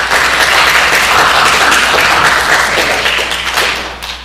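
A crowd at a town hearing applauds two police officers, a dense, loud burst of clapping that holds steady, then fades away near the end.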